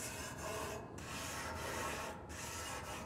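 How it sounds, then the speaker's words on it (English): Stiff grill brush scrubbing barbecue grill grates on a gas grill heating up, a steady back-and-forth rasping with short pauses between strokes, close and continuous with no talk. "Grab a grill brush, make sure you clean your grates."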